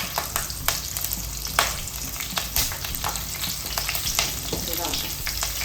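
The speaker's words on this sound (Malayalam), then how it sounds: "ഇതിലോട്ട് 2 പച്ചമുളക് അരിഞ്ഞിട്ട് കൊടുക്കാം." Green chillies and curry leaves frying in hot oil, a steady crackling sizzle with sharp pops and spits throughout, close and fairly loud with no voices.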